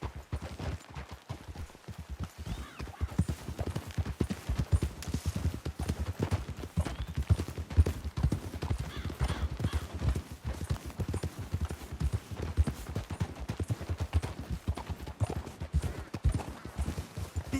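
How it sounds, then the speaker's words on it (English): Horses gallop in Red Dead Redemption 2, with a fast, steady clatter of hooves pounding continuously and fairly close throughout, and no talk over it. "We should leave the horses."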